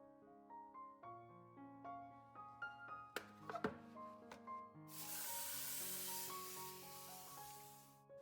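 Water sprays and hisses over black-eyed pea sprouts in a steady rinse, following light clinks and taps with a soft melodic tone underneath.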